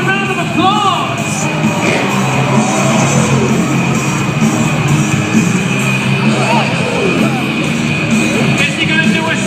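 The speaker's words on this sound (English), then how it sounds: "Give him a round of applause." A large crowd at a monster truck show in an open stadium roars continuously, with scattered yells and whoops rising over a dense, loud wash of cheering and clapping.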